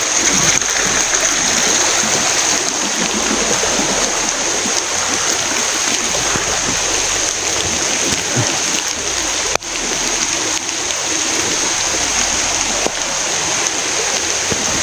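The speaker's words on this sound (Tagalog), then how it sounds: "napakalakas pa ng ulan" Heavy rain pours in a dense, continuous hiss, loud and unbroken, with a faint thump partway through.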